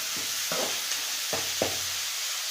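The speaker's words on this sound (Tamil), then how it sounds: "மல்லி கருவேப்பிலை போட்டுக்கலாங்க. நல்லா கிளறி விட்டுக்கலாங்க." Coriander and curry leaves being stirred in a frying pan for a tilapia puttu: steady oily sizzle with four short scraping strokes of a spatula, close and fairly loud.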